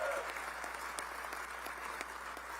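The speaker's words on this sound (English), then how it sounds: "Yes, another round of applause." Audience applauding at a press conference introducing the new Louisville men's basketball head coach, a moderate, fairly distant patter of clapping hands under low room hum.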